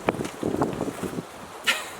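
Gusty wind blowing outdoors in a garden, with short rough buffets and rustles rising and falling over two seconds, a louder gust near the end.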